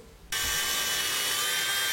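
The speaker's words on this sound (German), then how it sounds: "Ich habe geflext," An angle grinder starts up and cuts metal during the building of a hammer test rig, producing a sudden loud, steady hissing whine with a constant high tone that runs on unbroken.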